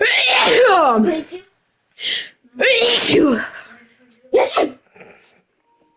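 Several loud, close sneezes come in quick bursts, mixed with short spoken exchanges between people.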